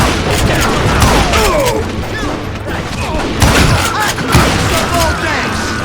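Rapid gunfire and booming shots from the Western shooter game Call of Juarez: Gunslinger, a dense fusillade of cracks and thuds against many attackers, loud and continuous with a voice talking over the battle.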